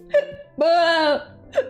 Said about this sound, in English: Oh, hiccups, go away.